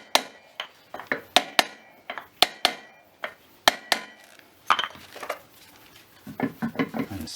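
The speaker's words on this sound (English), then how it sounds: "Give this thing another few whacks." Hammer whacks land on the rear roller of a Scott Bonnar 45 reel mower during a rebuild, a run of a dozen or so sharp, close metallic knocks in uneven rhythm, followed by quicker, lighter taps toward the end.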